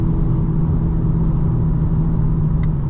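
A 2025 BMW M4 Competition xDrive engine holds a loud, steady, rumbling drone from inside the cabin, with no voices over it.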